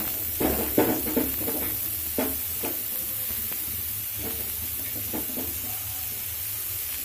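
Sliced beetroot and onion frying in a pan, giving a steady soft sizzle with a few scraping knocks from stirring near the start and quieter hissing afterward.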